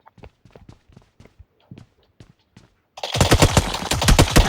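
Gunfire in PUBG Mobile: scattered single sharp shots for a few seconds, then a sudden loud, dense burst of rapid automatic fire that continues to the end.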